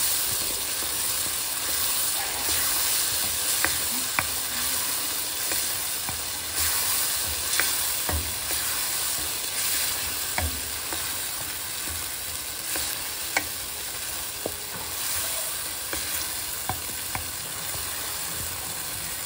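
Spices for bhindi masala curry stir-fry in a pan with a steady loud sizzle, punctuated by scattered clicks and scrapes of stirring, continuous and close without any voices.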